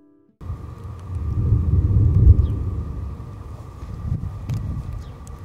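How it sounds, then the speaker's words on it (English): Thundersnow rumbling through a snow squall, a long loud low roll that swells and fades over several seconds, with wind noise and no talking. "That is thunder snow"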